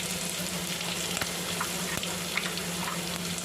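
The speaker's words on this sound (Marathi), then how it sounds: "तेलामध्ये मी हा वाटलेला मसाला टाकणार आहे।" Ground masala with curry leaves, garlic and cumin sizzling steadily in hot oil in a pan for a traditional Maharashtrian curry, a continuous close crackling fry with light stirring and no talk.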